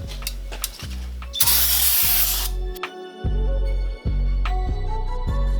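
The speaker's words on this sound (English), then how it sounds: "let's clean it up with a wire brush and some brake cleaner" Brake cleaner sprays onto a Toyota Tacoma's rear wheel hub in one long close hiss, with tool clicks and a rhythmic mechanical ratcheting running underneath, no talk.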